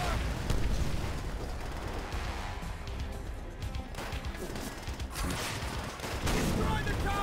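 Dense battle noise from Call of Duty World at War, with rapid gunfire and booming explosions rolling on continuously and loudly for several seconds, in a World War II campaign firefight.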